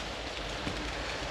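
Steady rain pattering on a wet tent during a cycling trip through the Balkans, a dense continuous hiss of drops close overhead with no voices.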